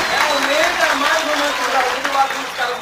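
An audience applauds a poetry performance at a club show in Fortaleza, Ceará, with a steady round of clapping over a few seconds and speech audible over the top.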